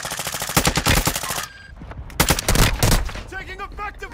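Rapid video game gunfire rattles in dense bursts, loud and close, breaking off briefly before more shots crack out, with voices mixed in.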